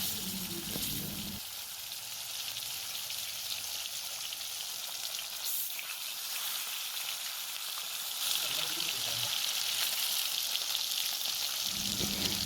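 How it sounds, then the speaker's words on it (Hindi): Fish pieces frying in a hot kadhai with oil, with curry of ridge gourd and potato to follow: a loud, dense, steady sizzle close up, holding for the whole stretch, swelling slightly near the end, with no speech. "मछली को अच्छे से फ्राई होने देंगे।"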